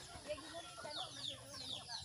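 Chickens are caught and handled early in the morning to be weighed for a customer, giving faint, scattered clucks and short squawks over a low background.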